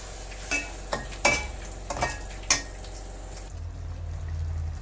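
Ground tomato paste sautéing in a pan, a few spoon taps and scrapes against the pan over a low simmering hiss that settles into a steady faint bubbling.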